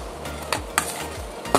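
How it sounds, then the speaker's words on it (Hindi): A spoon stirs food inside a cooking pot in a home kitchen, giving soft scraping strokes with a few sharper clinks against the pot rim, close and steady with no talking. "पहले मैं इसको पूरा को चम्मच से मिक्सिंग कर लेती हूँ।"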